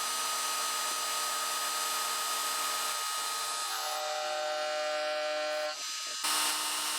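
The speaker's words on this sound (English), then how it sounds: "this is being done with my ball nose end mill as well as this chamfer" A CNC mill cutting a vise part with a ball nose end mill and chamfer tool produces a continuous high, whining machining tone with steady pitch, loud and close, shifting slightly partway through.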